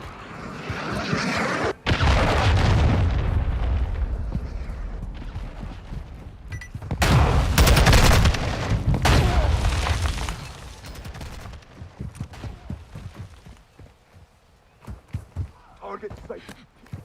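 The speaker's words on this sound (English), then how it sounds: "Friendly cruise missile deployed." Loud rumbling explosions from a cruise missile killstreak in a first-person shooter video game, heavy booming blasts swelling and fading over several seconds, followed by scattered impacts and thuds, with game voice callouts mixed in.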